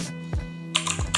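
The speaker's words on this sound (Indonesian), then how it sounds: "Oke, sekarang kita coba ngetik." Keystrokes on a keyboard connected to a Xiaomi Pad 6 tablet, a few clicky taps in quick uneven succession over a steady low hum, close and moderately loud with no talking.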